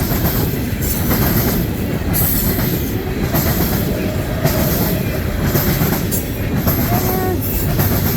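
A CSX freight train led by CM44AC locomotive 7300 rolls past close by, a loud continuous roar of wheels on rails with rhythmic clacking and occasional squeal throughout.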